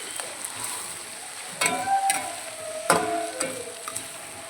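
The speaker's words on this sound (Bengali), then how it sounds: "পনিরগুলোকে ভালো করে ওকে মিশিয়ে নেব" Paneer cubes stirred through a frying pan while making chilli paneer, a soft sizzle running under a few sharp spatula scrapes and knocks against the pan, close and moderately loud, with no one speaking.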